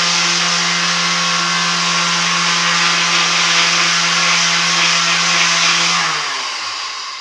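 A powered sander runs steadily on construction-grade 2x4 wood, a loud, continuous motor whine with a strong low hum and broad gritty hiss of sanding, winding down slightly near the end; no voices.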